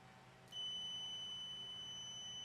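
A multimeter's continuity beep as its leads touch together: a steady high-pitched electronic tone switches on abruptly and holds as a single continuous tone, clear and close.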